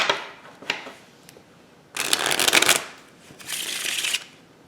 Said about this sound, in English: they can shuffle the cards again